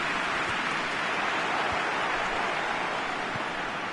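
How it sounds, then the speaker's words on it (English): Steady broadband hiss of rain falling in a football video game match, a dense, even wash of noise throughout with a few faint low thumps. "Just starting to get the first signs of rain here."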